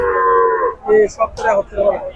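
A cow at a cattle market moos with a long low call, then gives several shorter moos in quick succession, close and clear.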